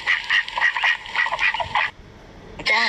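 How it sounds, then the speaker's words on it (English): Duck quacking in a rapid run of nasal calls lasting almost two seconds, then a brief pause before another quack starts. The sound is close and loud, with no one talking over it. "Duck."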